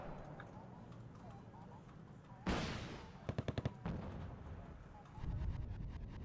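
Bursts of machine gun fire in the Wargame: Red Dragon battle on the Plunjing Valley map: a loud blast, then a quick rattle of about five sharp shots, over steady battle noise and voice commentary.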